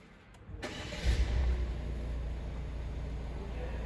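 A 2021 Citroen C4 1.5 BlueHDi engine cranks and catches around a second in, then settles into a steady, low diesel idle that rumbles on to the end.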